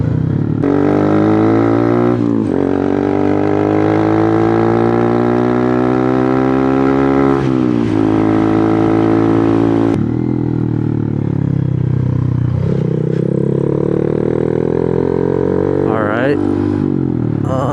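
A modified Honda Monkey motorcycle with a racing exhaust drones loudly up close as it slows down, its engine note falling and shifting. A voice talks over the engine throughout.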